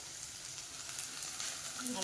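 Greens frying with eggplant in a hot pan, a steady, close hiss of sizzling oil that holds evenly throughout, with no voices.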